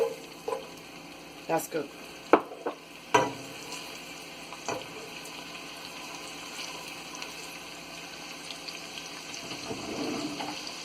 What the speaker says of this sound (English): So I'm going to put my onion straight into the oil.